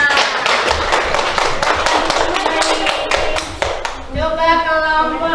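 A class of students clapping together in a classroom, a fairly loud, rhythmic burst of hand claps over chatter, fading near the end into a voice speaking.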